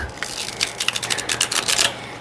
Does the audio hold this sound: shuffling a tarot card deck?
yes